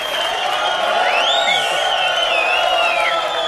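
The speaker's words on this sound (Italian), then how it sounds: "un applauso all'onorevole Splendido" A studio audience at an Italian talk show recording claps and cheers in a loud, sustained crowd roar, with a piercing whistle rising and falling across the middle.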